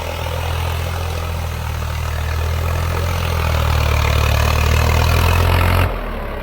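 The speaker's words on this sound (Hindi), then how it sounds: "भाई दूसरे के हाई में चल रहा है ट्रैक्टर।" A tractor engine runs steadily in high gear, a loud low rumbling drone that holds and swells slightly before cutting back near the end.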